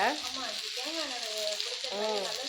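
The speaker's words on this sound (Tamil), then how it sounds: "தேங்காய் எண்ணெயில் பொரிக்கிறதால" Steady crackling sizzle of seer fish frying in hot coconut oil, close by, with voices talking over it throughout.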